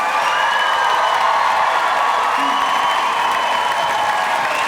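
Audience applause at a university commencement ceremony for graduating classes, a steady dense wash of clapping and crowd noise that holds throughout at fairly loud level.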